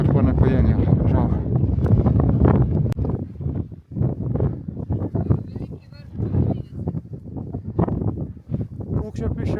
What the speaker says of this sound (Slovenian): Veter pa ne pojenja, žal.